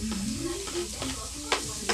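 Garlic sizzles in hot oil in a pan as chicken is prepared, a constant close crackle with occasional clinks of a utensil and a faint voice underneath.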